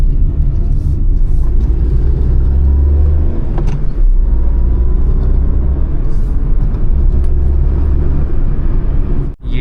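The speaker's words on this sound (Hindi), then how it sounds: "इसको कहते हैं रेव मैचिंग।" A Maruti Alto K10 engine blips and revs during a rev-matched gear shift on narrow Shimla roads, a steady low rumble from inside the car that swells and settles, with no speech.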